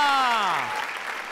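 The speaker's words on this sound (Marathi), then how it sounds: "सरपंचांसाठी एकदा जोरदार टाळ्या." Loud applause for the village sarpanch on a comedy stage show, following the tail end of a voice with a falling tone, then a steady wash of clapping to the end.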